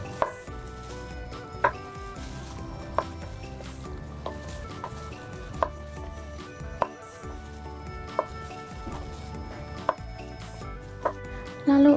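A knife halves mushrooms on a board with about a dozen crisp, separate chops spaced a second or so apart, close and clear over a faint steady background.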